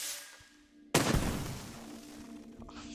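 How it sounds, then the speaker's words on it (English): In Besiege, stacked bombs with grenades beneath them detonate in a single sudden loud blast that trails off into a rumbling, crackling decay, after a short quieter lead-in. "So here's a normal explosion."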